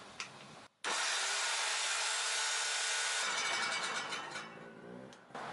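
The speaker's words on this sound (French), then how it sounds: "La scie circulaire devrait démarrer simplement en branchant cette prise là" A circular saw mounted in a homemade table saw switches on with a sudden burst and then whines loudly and steadily for several seconds before winding down, close by.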